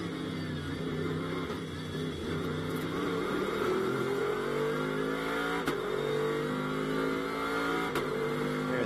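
A GT race car engine at Las Vegas Motor Speedway accelerates onto the banked speedway, a loud sustained roar with steadily rising pitch through the gears and a couple of sharp clicks or shift blips.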